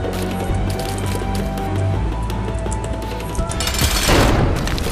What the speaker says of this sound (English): That gives me a chance to shoot infected bullets.